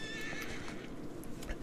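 Horse neighing and hoof clip-clops from the strategy game RiseToWar, a steady whinny over a busy rumble of hooves, game ambience running continuously for under two seconds.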